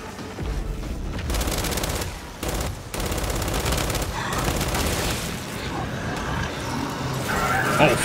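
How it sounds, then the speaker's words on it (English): Rapid bursts of gunfire in the Gears 5 co-op video game, sounding dense and sustained, with overlapping shots and game effects filling the whole stretch at steady loudness. "Shooting at things."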